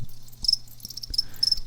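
Crickets chirp in short, regular bursts, a thin high trill repeating over faint background noise, with no voices.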